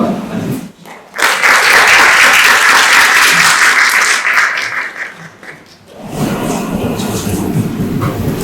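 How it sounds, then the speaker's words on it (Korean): Audience applause for a director at a research clinic showcase, a loud full burst of clapping that swells after a short pause, holds for several seconds, then fades into murmuring and movement in the hall. "큰 박수만 해주십시오."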